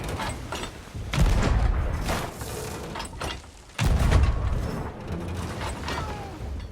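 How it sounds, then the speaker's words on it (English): Cannons firing aboard a ship in Sea of Thieves, two heavy booms a few seconds apart, each with a long rumbling tail, loud and close over a busy background. "You don't like the sound of the cannons?"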